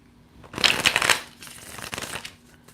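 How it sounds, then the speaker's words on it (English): A deck of tarot cards is shuffled during a live reading, giving a close, crisp riffling burst that swells and fades within about two seconds, with no speech. "Give it a good shuffle over here."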